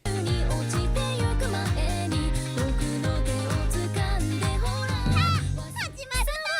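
An upbeat Japanese electronic pop tune from a drumming rhythm game, with a driving steady beat, punchy bass and bright synth melody, loud and continuous, briefly breaking down near the end.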